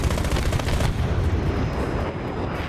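Heavy bursts of 20mm cannon fire in the War Thunder video game, loud and dense for the first second and then trailing off into a rumbling tail with no talk.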